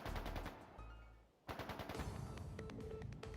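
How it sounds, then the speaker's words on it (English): Rapid, dense bursts of gunfire ring out in the video game Trails of Cold Steel 3, with sustained machine-gun style rattling broken by a brief lull before a second volley starts. "Gunfire from deeper in"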